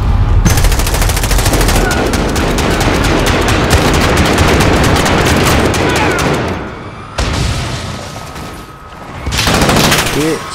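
Sustained automatic gunfire rakes a Wheelson drone in Call of Duty Modern Warfare, loud and dense for several seconds before it breaks off and returns in short bursts, while someone talks over it.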